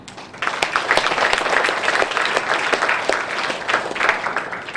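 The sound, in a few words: audience applause at forum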